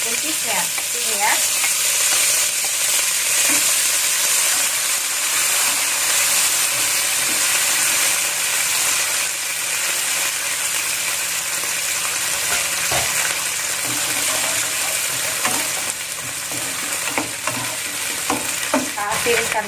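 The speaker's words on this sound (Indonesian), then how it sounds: "Nah, seperti ini dia sudah agak panas. Saya tumis buncisnya ini ya." Green beans stir-fried in hot cooking oil give a steady, loud sizzle and crackle with scraping stirs throughout, close up and without talk.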